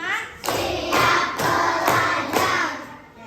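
Several claps ring out in a loose, even rhythm, about five in a row, fairly close and moderately loud.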